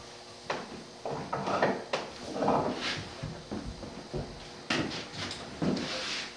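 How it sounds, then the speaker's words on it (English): A marking gauge scribes a line across a wooden drawer front during hand-cut dovetail work, giving several short, dry scraping strokes of wood rubbing that sit close and fairly loud, with brief pauses between passes. "we also need to make a scribe line with a marking gauge across the front of the drawer"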